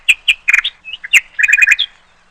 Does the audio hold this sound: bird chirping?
yes